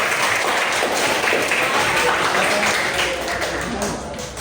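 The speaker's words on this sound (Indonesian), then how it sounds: "Kita kasih aplaus dulu." Classroom applause from a group of students, sustained clapping filling the room for several seconds before tapering off near the end.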